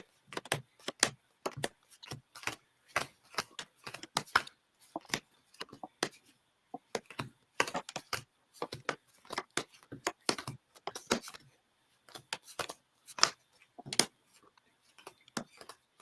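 Sealed-deck playing cards are shuffled by hand during a card game, giving a run of quick, sharp riffling snaps and taps, close and fairly quiet, with irregular short pauses.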